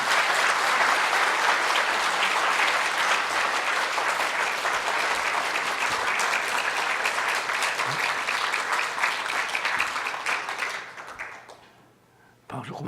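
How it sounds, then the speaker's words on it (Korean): A church congregation gives sustained, dense applause at a revival service, loud and even for about ten seconds before fading out into near silence, with a brief swell again at the very end. "박수 그만 치십시오."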